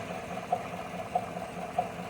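An idling Chevy 5.3 engine hums quietly, with a faint knock recurring about every half second in a steady rhythm tied to engine RPM, from an engine failing at 40,000 miles on 0W-20 oil.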